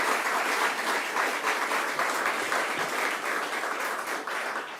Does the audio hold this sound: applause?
yes